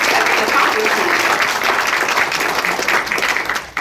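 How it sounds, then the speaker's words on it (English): Audience applause at a school district board meeting, a loud steady round of clapping from the room that thins out toward the end, with some voices mixed in. "give her a round of applause"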